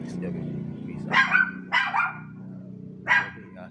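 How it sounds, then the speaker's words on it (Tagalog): A dog barks near a car in Imus, Cavite, three sharp barks with gaps between them over a low engine hum. A voice is heard faintly. "aso dito."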